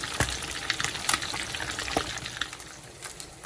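Fish sizzling in hot oil for Jamaican brown stew fish, with a moderate crackle and a few distinct sharp pops over a softer, fluctuating hiss.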